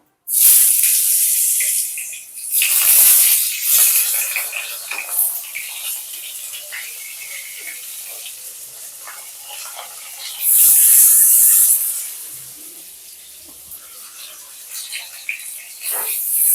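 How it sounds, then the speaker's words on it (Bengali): Cut potatoes and pointed gourd fry in hot oil left from frying rohu fish, producing a loud, close sizzle that surges in waves and then settles to a softer crackle. "এবার ওই তেলের মধ্যেই কেটে রাখা আলু আর পটলগুলোকে ভেজে নেব।"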